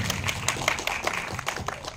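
An audience claps in a steady, dense round of applause, close and fairly loud, with no talk over it.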